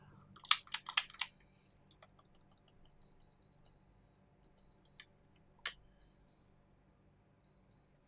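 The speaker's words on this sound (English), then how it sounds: "It's double beeping." Short electronic beeps sounding in quick pairs, repeated several times, preceded by a few sharp mechanical clicks, from a plug-in MOSFET with precocking in a G&G airsoft electric gun; close and fairly quiet.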